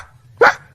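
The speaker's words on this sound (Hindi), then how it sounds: "सही है, कुत्ता" A single sharp dog bark sounds close and loud, brief and alone after a quiet moment.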